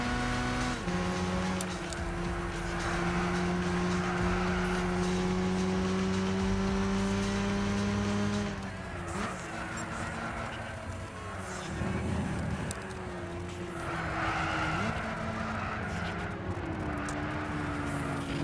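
Racing car engines in the Gran Turismo 6 video game hum and whine steadily, with pitch shifting through gear changes and revs rising and falling, loud and continuous throughout.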